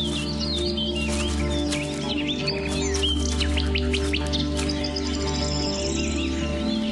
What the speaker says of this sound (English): In this case, a woodchat shrike. The chick has been offered a juicy caterpillar